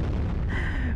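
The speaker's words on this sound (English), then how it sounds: "Atomic explosion." A large atomic explosion super move in the video game Sakura Wars, heard as a dense, loud booming roar that fills the short moment, with a rising whine layered over the rumble.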